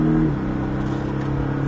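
A Porsche 718 Cayman S engine pulls hard during on-track acceleration, a steady sustained drone with a rising harmonic tone near the start, loud and close, with no talk over it.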